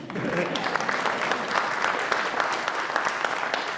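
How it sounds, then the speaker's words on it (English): Audience applause follows a speech about raising the minimum wage: a dense, steady round of clapping from a sizable crowd that holds at an even level throughout. "I hate stepping on applause."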